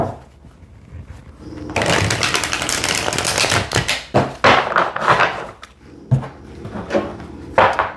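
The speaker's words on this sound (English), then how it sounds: "Let me just get a quick shuffle on." Tarot cards are shuffled at close range in a run of quick riffling and flicking bursts, with soft taps and knocks of the deck between, no voices.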